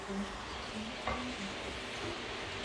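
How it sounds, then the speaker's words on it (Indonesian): Fried noodles (mie goreng) cooking in a pan give off a soft, continuous sizzle and hiss, faint and steady with a light stirring knock about midway. "Selanjutnya saya akan masak mie goreng."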